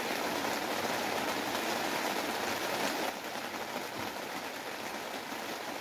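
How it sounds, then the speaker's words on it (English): Rain falls steadily as a dense, even hiss of drops, fairly faint and continuous, with a slight drop in level midway and no voices. "listen to the raindrops"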